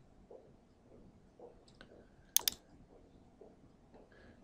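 A computer mouse clicks a couple of times in quick succession, crisp and close, amid a quiet room with faint murmuring.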